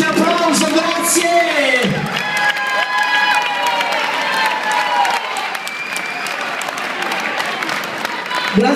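A crowd at a tango, flamenco and bachatango dance show claps and cheers loudly, with whoops and shouted voices rising over continuous applause that runs throughout.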